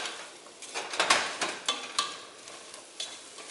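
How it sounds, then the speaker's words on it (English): Spices being stirred into a pot of chili, with repeated scraping and clinking stir strokes over a low sizzle, close and fairly quiet. "I'm just going to coat these suckers. Mix that all in."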